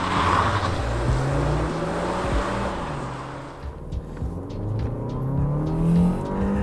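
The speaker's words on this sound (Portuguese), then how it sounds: "vamos conhecer a pegada desse motor GSE turbinado. Vou ligar o modo Sport, câmbio aqui vou jogar no modo manual," A Jeep Compass GSE 1.3 turbo engine with 185 hp, driven in Sport mode with manual gear selection, revs and accelerates steadily, its engine note rising and falling close by with no talk.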